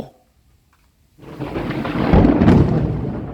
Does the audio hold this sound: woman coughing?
no